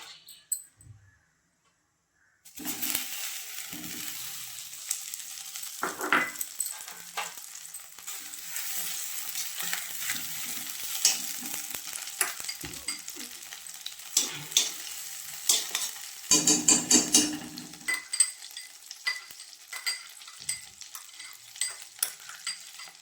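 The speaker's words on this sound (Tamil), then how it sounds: "இப்போ நம்ம வெண்ணெய் எடுத்து போட்டுடலாம்." Butter hits a hot, dry pan and sizzles steadily as it melts, a close crackling hiss with scraping stirs from a spoon, following a brief quiet start.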